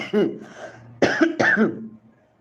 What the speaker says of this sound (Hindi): थोड़ी सी खांसी अचानक आने लगी ना